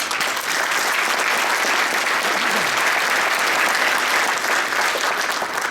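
Sustained applause from an audience at an award ceremony, dense and steady clapping at full volume throughout, with no voices standing out.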